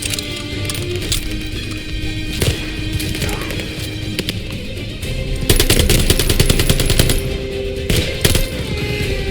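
Rapid machine-gun fire and rattling shots in Call of Duty Vanguard in a battle with half-tracks, sustained close bursts over a steady rumbling din that grow louder and denser partway through.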